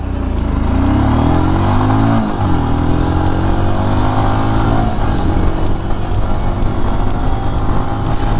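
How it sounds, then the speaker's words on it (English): A Royal Enfield Scram 411 dual-sport motorcycle accelerates hard from a standstill toward 60 mph, its engine note climbing through gear changes with loud, steady rumble and wind noise throughout. "I'm going to do my best to get this bike from 0 to 60 as fast as possible."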